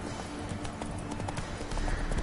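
Roach the horse trotting in The Witcher 3, rapid clip-clop hoofbeats in a steady rhythm, close and continuous, with no voices.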